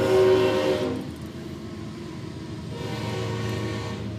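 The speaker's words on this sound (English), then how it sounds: "here's my train again" A train rumbles past nearby, a steady low mechanical roar that eases slightly, then swells again toward the end.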